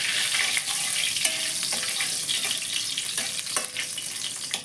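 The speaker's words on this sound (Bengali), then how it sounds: "শুকনো লঙ্কা ফোড়ন দিলাম।" Dry red chilies and bay leaves crackle in hot oil in a wok, a loud, continuous sizzle with faint utensil scrapes and small pops, close up and without voices.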